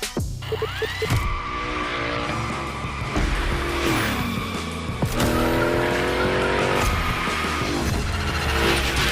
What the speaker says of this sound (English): Let's see how you handled your first slides with the Hoonicorn